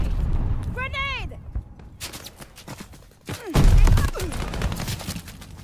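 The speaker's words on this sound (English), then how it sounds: "Grenade!" Video game battle scene with bursts of gunfire and a heavy grenade blast, sharp cracks and a deep thump mixed with game voice callouts and shouted speech.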